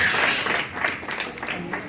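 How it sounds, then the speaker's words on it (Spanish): An audience applauds in a short burst of scattered clapping, with voices faintly mixed in underneath. "un aplauso para Jenny"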